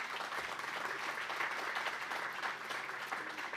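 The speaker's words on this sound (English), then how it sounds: "Let's give him a round of applause." An audience at a State of the City address applauds the school superintendent, a steady, fairly soft wash of clapping from a crowd that holds evenly throughout.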